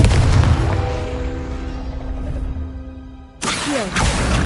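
A Confringo fire spell in the wizarding game Hogwarts Legacy bursts with a heavy, booming blast that rings out and fades with a sustained tonal decay, followed by a sharp second burst with a whooshing tail.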